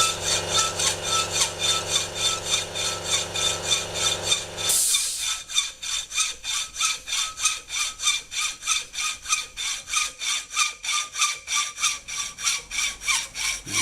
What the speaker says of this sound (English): so second cut with the hacksaw